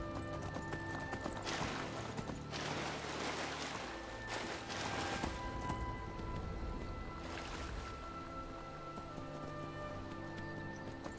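Steady horse hooves clip-clop on hard ground at a trotting pace in Skyrim, with a constant ambient drone and faint gusts of wind swelling behind them.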